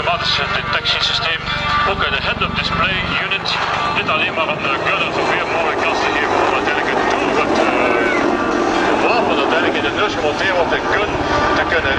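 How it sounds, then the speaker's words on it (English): A helicopter flying a loop with flares at the Sanicole Airshow roars loudly and continuously overhead, its engine and rotor noise shifting as it maneuvers, while a commentator talks over the PA throughout. "The helicopter will be performing another loop with flares."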